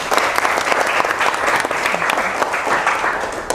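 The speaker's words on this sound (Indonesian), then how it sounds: "Oke, bagus, betul, tepuk tangan untuk Mas Reno ya" A classroom of students applauds a classmate during a science lesson on making a phone charger and coin battery, with loud, close clapping that stays steady and energetic for a few seconds.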